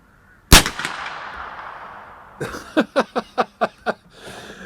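An 1873 Winchester rifle in .357 Magnum fired outdoors: one loud sharp shot ringing out into a long fading echo, then a quick run of six lighter evenly spaced pops.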